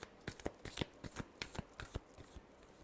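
Tarot cards being shuffled by hand, a quick run of crisp riffling snaps and soft shuffling bursts, close and clear with no voices.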